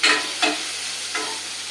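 Onions sauté in a pan for Karaikudi-style kara kuzhambu, a steady close sizzle broken by two or three soft scraping stirs of a spatula, with no talking.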